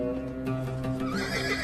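Horses neigh and whinny loudly in a tonal, wavering cry, with hoof clatter and commotion beneath, as in a mounted guerrilla war in historic Georgia.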